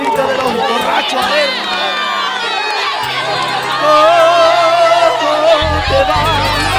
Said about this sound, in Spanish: quiero escuchar el grito de los borrachos.